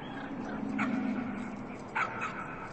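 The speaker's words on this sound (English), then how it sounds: "What are they barking at?" Dogs bark in the video game Trover Saves the Universe, giving two short yapping bursts over a steady, droning game background.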